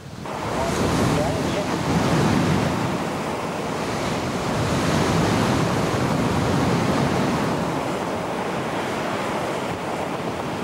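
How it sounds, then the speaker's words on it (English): Typhoon storm surge crashes and churns continuously on the Taiwan shore, a loud roaring wash of building waves mixed with gusty wind noise. "I get a few more shots of the storm surge as the waves build up"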